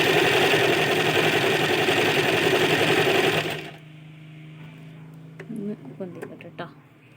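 A Usha Janome sewing machine stitches an embroidery design, running with a loud steady whirring hum for about three and a half seconds, then stopping, followed by a few faint clicks and handling sounds.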